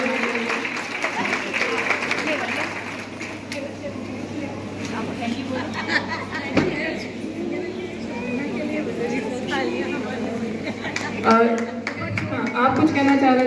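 An audience at an alumnae association annual meet claps together in sustained applause, a dense patter of many hands that rises toward the end, with voices and chatter mixed in throughout.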